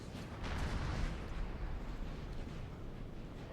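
Distant artillery fire in the Napoleonic: Total War 3 multiplayer battle, a low rumbling boom swelling early and trailing into a steady muffled roar, fairly faint, with no talking.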